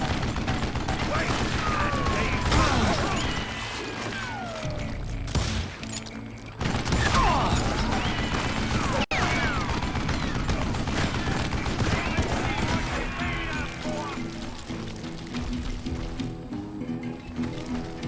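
Repeated gunshots crack through a Call of Juarez Gunslinger shootout, with several bursts and short pauses, mechanical clicks of reloading, and a voice talking over the action.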